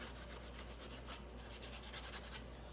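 Wooden edges of a small Shaker-style box being cleaned up by hand, a steady rasping rub of abrasive or file strokes repeating close up for the whole stretch with no talk.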